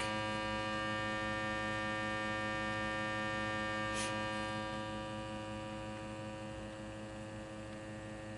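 A steady, buzzy electrical hum from a Honey Amp guitar amplifier drones on with no other sound, constant and moderately quiet, with a faint brief crackle partway through.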